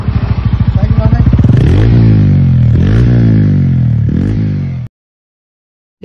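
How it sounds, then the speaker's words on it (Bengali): A TVS motorcycle engine thumps at a rapid, close idle and then revs up several times in rising and falling surges before cutting off abruptly into silence. "আপনারা শুনতে পারছেন আওয়াজটা কত সুন্দর, টিভিএস রোলিং বাইকের খুব সুন্দর আওয়াজ"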